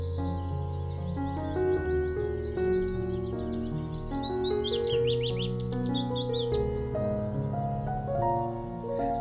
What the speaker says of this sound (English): Mole lies on some cool dock leaves in Ratty's garden, listening to the willow warbler